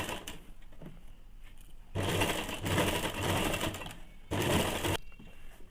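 A sewing machine stitches ladies' pants in bursts. It runs in two loud, fast whirring runs of about two seconds each, with quieter pauses between them.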